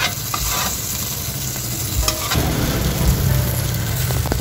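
Garlic and ginger sautéing in oil make a continuous bright sizzle with the scrape and clatter of stirring. A louder burst of frying comes a couple of seconds in as more goes into the pan.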